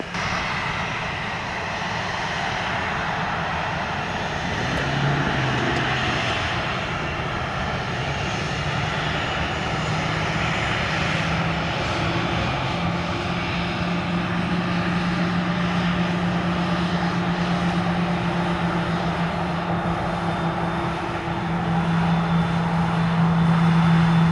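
An airliner takes off from runway 25 at Montego Bay, Jamaica, its engines giving a loud, sustained roar and drone that holds steady for the whole stretch without any voices.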